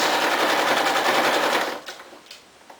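A sewing machine stitches around the edge of a felt fish in a rapid, loud mechanical whirr that runs about a second and a half, then stops, leaving a few faint clicks.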